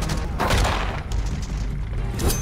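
Gunfire from a film scene, with a team shooting at a frenzied, zombie-like crowd: a dense burst of shots and booms in quick succession, loud and close, with no speech.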